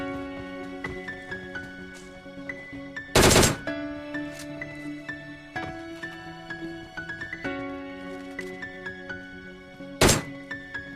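Gunfire in PUBG Mobile, with quick bursts and single shots, two loud bursts standing out, layered over game music and effect tones with no voices.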